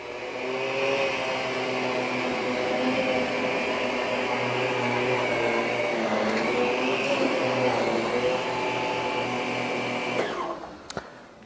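A Miele Guard L1 Electro vacuum cleaner runs on low suction picking up hair, with a loud, steady whirring drone up close that cuts off abruptly near the end.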